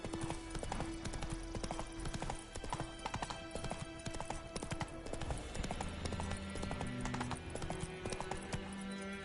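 Roach, the horse in The Witcher 3 on PS5, gallops in steady rapid clip-clop hoofbeats throughout, close and loud over a game music bed.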